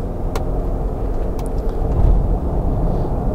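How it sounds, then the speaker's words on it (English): A Range Rover 4.4 TDV8 diesel pulls hard from very low revs up a long steep hill, a steady, loud, deep engine rumble with road noise that swells slightly midway and carries on throughout. "The TDV8's pulling nice and strong here from very low RPM up this long steep hill"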